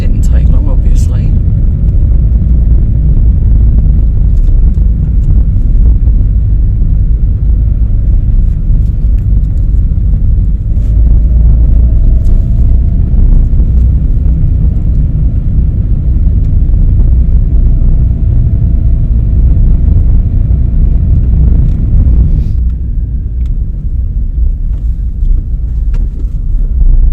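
Car driving along a country road in France near a chateau, with a loud steady low engine and road rumble heard from inside the cabin throughout, easing slightly near the end.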